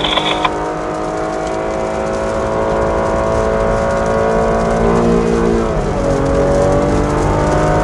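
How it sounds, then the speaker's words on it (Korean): A car engine drones loudly and steadily, its pitch rising and shifting as it revs, heard from inside the car. "엔진 소리는 참 듣기 좋게 만들어 놨네요"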